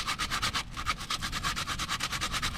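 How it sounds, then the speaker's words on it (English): Sandpaper scrubs a brake tensioner clip from a Honda CR-V rear brake in quick, even back-and-forth strokes, a soft close rasping rhythm of about a dozen passes with no talking. "I'll get some sandpaper right here."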